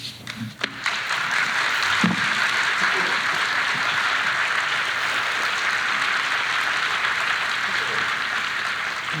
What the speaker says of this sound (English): It's the applause of him going off stage.